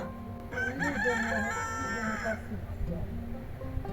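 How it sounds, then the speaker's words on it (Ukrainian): A rooster crows once, loud and close, a long strained cock-a-doodle-doo that trails off into quieter farmyard background noise, with hens nearby on a warm autumn day. "то півник був і дві курочки з ним прибігли сюди"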